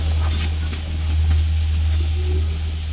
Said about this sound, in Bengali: এই কটা আমি কড়াইতে দিয়ে দিয়েছি। এই কটা ভেজে উঠে দিব।